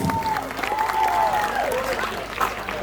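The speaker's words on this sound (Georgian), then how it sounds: "თქვენი მხურვალე აპლოდისმენტებით წარმატება უსურვოთ" Warm applause from an audience at a sports awards ceremony honoring a sambo champion, sustained clapping filling the room with faint crowd murmur.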